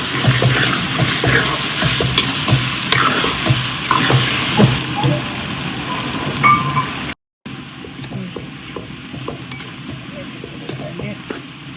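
Ginger and garlic fry in oil for fish pickle while being stirred, giving a close, continuous sizzle broken by scraping stirring strokes and one brief drop to silence partway through.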